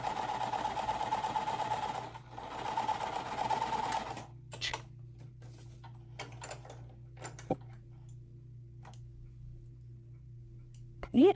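Sewing machine stitching half square triangle quilt blocks, a steady close mechanical whir for about four seconds, followed by quieter clicks and fabric handling.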